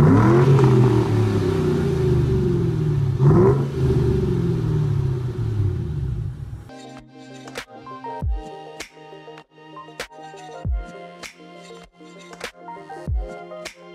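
A 2007 Ford Mustang GT three-valve V8 with Borla Stinger axle-back exhaust gives a deep rumbling rev that swells and falls, then a few sharp blips and crackles of the throttle from a close source.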